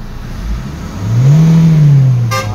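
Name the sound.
Hyundai Tucson 2017 engine revving to 5,000 RPM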